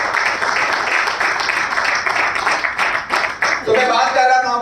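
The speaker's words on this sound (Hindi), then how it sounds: "एक बार जोरदार ताली।" An audience at a training session in Puri breaks into dense, sustained clapping that carries on steadily for several seconds, with a voice coming in as it tapers at the end.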